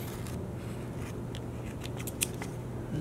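Scissors snipping through paper cut into an apple shape for a craft, a few quick faint crisp snips over steady low background hum, close but quiet.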